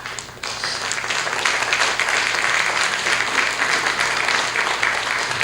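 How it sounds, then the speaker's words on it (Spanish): Applause swells up from a seminar audience in a university hall as a doctor is welcomed to speak, a steady, fairly loud roll of clapping that carries on without talk. "Vamos a recibir al doctor San Martín, por favor, con fuertes palmas"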